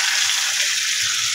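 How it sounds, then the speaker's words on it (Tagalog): Chopped onion sizzles in hot cooking oil with a bright, steady hiss that stays close and even throughout the short moment. "Mainit tayo mantika mga idol. Mga idol, lagay na natin ang sibuyas."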